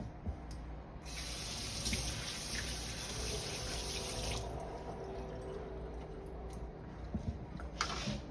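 Kitchen tap running to rinse vegetables in the sink for a lobster rangoon recipe, a steady close splash of water with brief hissy bursts as the flow hits the food.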